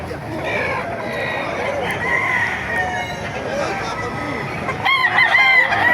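Roosters crow and chickens cluck at a busy gamefowl market in Baliuag, with several overlapping crows and clucks near and far over a crowd murmur, and a louder burst of calls near the end.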